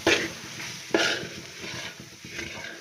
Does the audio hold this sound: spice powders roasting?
yes